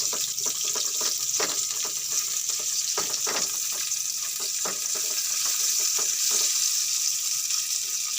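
Garlic and onion sauté in hot oil for pork adobo with pineapple, giving a steady, close frying sizzle with scattered crackles and light stirring clicks that runs unbroken throughout.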